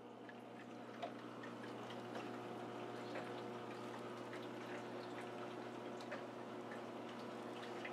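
Fast-moving water current churns steadily inside a native fish aquarium tank holding rosyside dace, a constant close rushing and trickling with faint drips and no voices.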